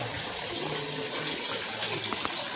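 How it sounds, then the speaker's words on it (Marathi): Steady water pours and splashes continuously from a cow-mouth stone spout at the Godavari river source near Trimbakeshwar, a full, even rushing sound with no voices. "गोमुखातून पाणी येते."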